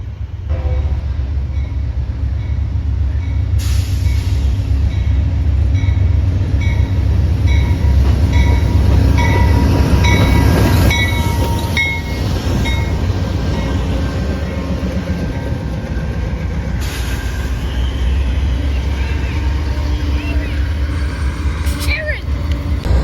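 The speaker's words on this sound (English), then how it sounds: "this is Amtrak PO41 coming from Tampa" Amtrak P041, a passenger train from Tampa, rolls past close by in Lakeland, a long steady rumble of locomotive and cars with clattering wheels and a brief horn, under a speaking voice.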